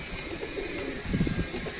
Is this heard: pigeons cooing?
yes